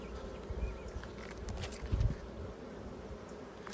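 Honey bees buzz around an open hive being worked: a steady, low, droning hum of many insects, with a few closer buzzes passing near, no talking.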